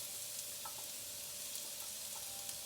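Garlic sizzles steadily in a hot frying pan, a constant crackling hiss with occasional soft stirring scrapes, close and alone without talking.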